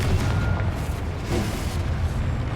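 The Confringo blasting spell in Hogwarts Legacy sets off a heavy, booming explosion with rumbling low-end bursts that roll on for a couple of seconds, loud and near.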